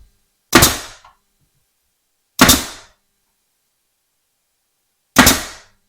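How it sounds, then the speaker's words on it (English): A nail gun fires 2-inch brad nails into walnut window frame corners: three sharp, loud, close bangs spaced a couple of seconds apart, each with a short decaying tail and silence between. "Now I'm using a 2-inch brad nail to nail these guys in."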